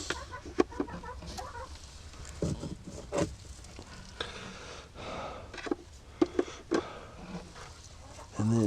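Chickens cluck in scattered bursts close by while eggs are sorted for an incubator, with handling clatter and a person talking in between.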